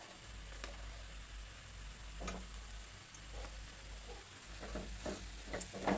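Rice is tipped into a hot pan and stirred with egg and potato, a steady soft sizzle running throughout with faint scraping and a few light taps of the spoon against the pan.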